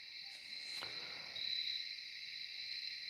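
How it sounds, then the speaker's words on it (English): Recorded cricket chirping plays as a background sound effect on a live stream, a faint, steady high-pitched trill running throughout, with one brief click near the start and no talking. "I just put those in, on the side, the cricket sounds."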